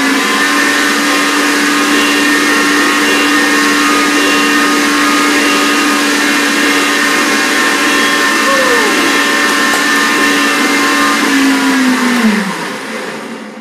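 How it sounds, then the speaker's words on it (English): Blender whirring loudly and steadily as it mixes coconut oil and lecithin into a cream, the motor holding a constant pitch before winding down and stopping at the end. "Sound of the blender, ready to go."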